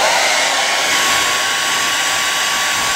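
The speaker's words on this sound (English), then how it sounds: "we take a hairdryer and point a hairdryer at it, because cellophane shrinks with heat" A hairdryer blows hot air onto cellophane stretched over a drum to shrink it tight, giving a loud, steady rushing whir that holds unbroken for the whole stretch, with no voices.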